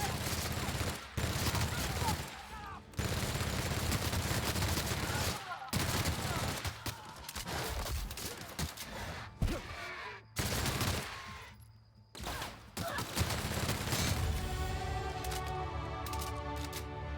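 Gunfire from The Outer Worlds comes in loud bursts of rapid shots broken by short pauses, with a steady tonal hum toward the end.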